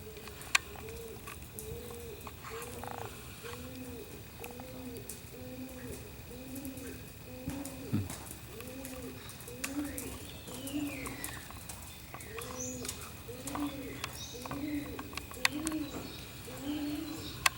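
Pigeons or doves cooing steadily in repeated soft rolling calls, a regular rhythm of coos at moderate distance against quiet outdoor background, with occasional faint clicks and no clear talk.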